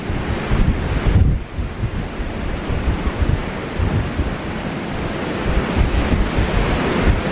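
Strong wind roars across a hilltop, buffeting the microphone in loud, continuous gusts with no voices.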